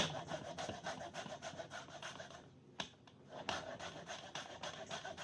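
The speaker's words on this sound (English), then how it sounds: "First, what you're gonna want to do is zest up your lemons." Fresh lemons being zested, a rapid rhythmic rasping of peel against a grater, strokes repeating close and quiet with a brief pause midway.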